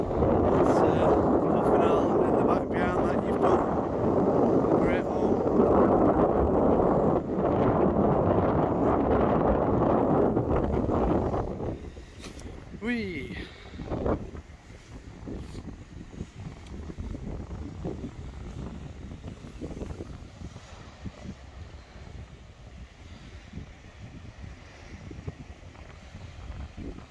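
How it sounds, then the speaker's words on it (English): Strong wind buffets the microphone on an open coastal beach facing a small offshore island, a loud steady roar for about eleven seconds before it drops away to lighter gusty rumble and faint background noise. "I've got wind directly in my face at this point"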